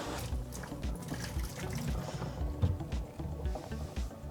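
Excess water drained from a pot of cooking potatoes into a kitchen sink, an uneven gurgling pour with sloshing and splashes, fairly close and moderately soft.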